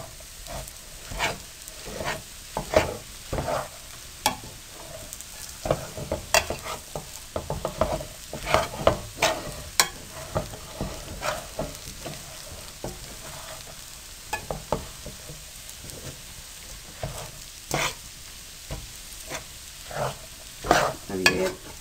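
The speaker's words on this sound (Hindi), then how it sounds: "बस सिर्फ 5 मिनट के लिए मेवे को भूनना है हमने" Dry fruits roast and get stirred into a makhadi halwa, giving a soft, steady sizzle broken by frequent sharp scrapes and clicks of a spoon against the pan, close and moderately quiet, with no voice.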